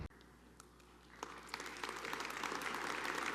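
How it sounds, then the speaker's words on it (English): An audience applauds at the City of Lubbock State of the City event. The clapping starts faint and builds into a steady, dense patter that fills the room. "You got a round of applause."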